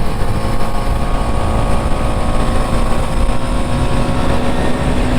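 Husqvarna Svartpilen 250 motorcycle engine while riding, a constant loud buzzing drone with steady wind roar, no pauses across the stretch.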